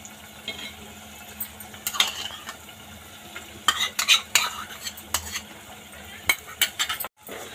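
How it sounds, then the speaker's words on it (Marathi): A spoon stirs and scrapes through a spice masala with yogurt frying in oil in a pan for egg masala, giving a low sizzle under repeated clinks and scrapes of metal against the pan. "तेलामध्ये 2 मिनिटं आपण हे फ्राय करून घेऊया सगळे मसाले"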